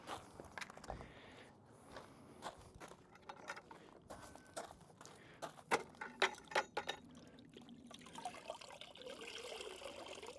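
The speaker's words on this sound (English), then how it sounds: "you're wringing out the product, the wash media, every time until it's not dripping" Rinseless car wash media wrung out by hand during a Subaru Forester STI maintenance wash, with irregular trickles and drips of water and soft handling noises close by, growing busier toward the end.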